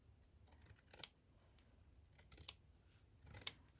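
Scissors snip through a small fabric tag being trimmed down to size, three or four quiet, close cuts spaced about a second apart in a hushed room.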